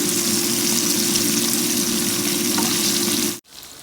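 Tinabal, a fermented fish, fries in hot oil with a loud, steady sizzle that runs unbroken and then cuts off abruptly just before the end.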